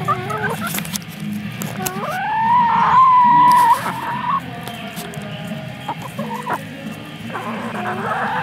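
Backyard chickens coming down the chute from their coop, clucking loudly and close by, with one drawn-out squawk rising above steady low murmuring clucks.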